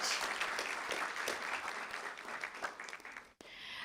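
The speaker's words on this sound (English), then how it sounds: "let's give a round of applause to the students from Fair Oaks Ranch Elementary" A crowd at a school board meeting claps steadily and enthusiastically for a few seconds for elementary school students, a dense patter of hands that stops abruptly near the end.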